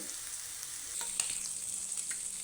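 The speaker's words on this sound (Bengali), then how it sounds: "আমি পেঁয়াজটা একটু হালকা ভেজে নিই সরিষার তেল দিয়ে" Onions lightly frying in mustard oil for a mashed potato bharta, a steady close sizzle with a few faint stirring scrapes and no talk.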